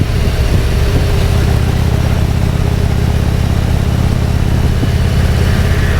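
Motorcycle engine fitted with an S&S 465 cam, idling roughly with a steady, loud, close low-pitched rumble and uneven lope that holds throughout, with no talking.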